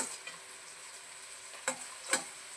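Chicken liver goes into country chicken curry frying in oil in a pressure cooker, a quiet steady sizzle broken by two sharp metallic stirring clinks.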